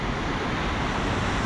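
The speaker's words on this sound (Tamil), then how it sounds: "எவ்வளோ தண்ணி போகுது பாரு." Water rushing through the Kallanai dam near Trichy, a steady broadband roar of churning flow that stays loud and continuous, with no voices over it.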